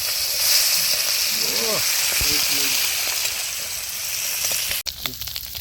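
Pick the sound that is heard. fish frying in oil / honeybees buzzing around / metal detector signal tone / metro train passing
fish frying in oil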